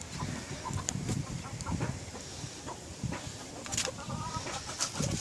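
Chickens and chicks about to be fed onions make scattered close clucks and soft peeping amid rustling and scratching, with a few sharper calls.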